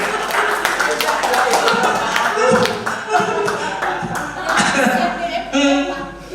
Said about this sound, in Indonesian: tepuk tangan dulu buat Pak Agung